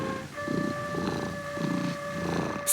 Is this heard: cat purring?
yes